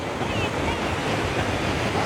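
Constant roaring surf on Puri beach under cloudy skies, a dense unbroken rush of breaking waves heard close and steady for a couple of seconds.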